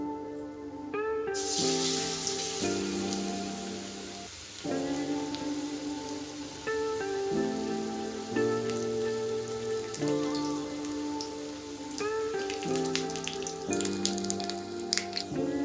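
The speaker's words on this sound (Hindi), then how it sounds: "तो देखिए इस तरीके से मैंने ब्रेड को बेसन से कोट कर लिया। अब मैं इसे फ्राई कर रही हूँ।" Bread slices coated in gram flour batter fry in hot oil, giving a steady close crackle that runs through the whole stretch beneath prominent tonal background music.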